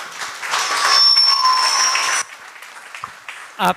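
An audience at a temple grand opening applauds a dance troupe, a full burst of clapping that cuts off abruptly and gives way to scattered quieter sounds and a brief voice.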